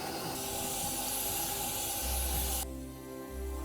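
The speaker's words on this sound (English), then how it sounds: "Put this under a lot of steam." Strong hissing steam jet playing over a felt hat being blocked into shape on a string line, a loud continuous broadband rush with a low rumble, stopping abruptly then fading.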